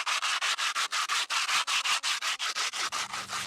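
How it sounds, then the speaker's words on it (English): Rough sandpaper scrubbed against chimney mortar in about twenty steady back-and-forth strokes, close and loud with an even rhythm and no talking. "this is a piece of rough sandpaper. That gets some of that excess off."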